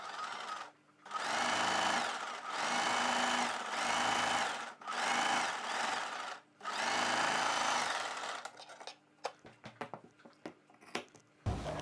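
A sewing machine stitches a prince-cut kurti, running in four or five steady whirring bursts with short pauses, close and loud, then gives way to scattered clicks and fabric handling.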